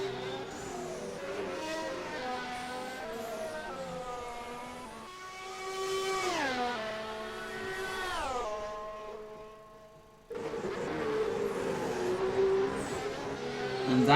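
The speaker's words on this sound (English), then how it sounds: "As Duran heads into the final corner." Race cars in a motorsport video game at a Bahrain track scream past with high, sustained engine notes. Pitch glides rise and fall through upshifts and passes, loud and continuous, with a sudden cut partway through and no talking.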